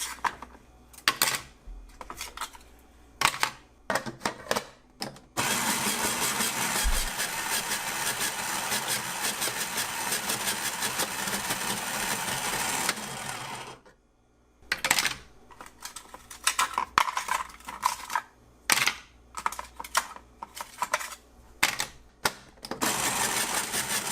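A Nostalgia RSM602 retro snow cone maker shaving ice loaded into its locked canister gives a loud, steady grinding whir for about eight seconds, set between shorter bursts of clatter and rattling, then stops on its own.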